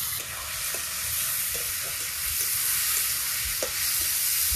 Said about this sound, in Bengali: চাল ডাল ভাজা ভাজা হয়ে গেছে